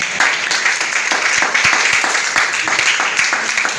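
A church congregation at a prophetic worship service claps in praise of the Lord, a dense, steady roar of applause that fills the whole stretch without pause.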